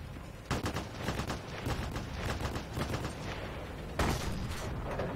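Gunfire from an SU-85B tank destroyer in a video game, heard as sharp booming shots with crackling battle noise behind them, a loud blast near the start and another about four seconds later, with no voices.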